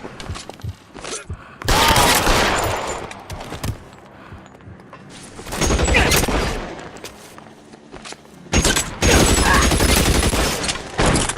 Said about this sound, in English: Officers need help at 1452 North Las Palmas. Shots fired.